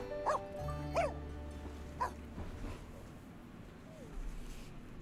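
A pet dog in The Sims 4 video game gives a few short, separate barks and yips, moderately loud against steady game music, with a voice speaking briefly.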